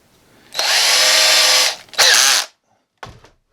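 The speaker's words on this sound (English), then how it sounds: "I start off with a real small drill bit" A small power drill with a small bit whirs at high speed for over a second while drilling a hole for an ulu knife, stops briefly, then spins again, followed by a short mechanical click, loud and close.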